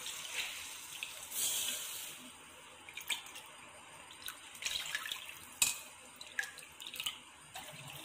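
Water is poured into a cooking pan for semolina, quiet splashing and trickling in short bursts with faint clinks, close and soft.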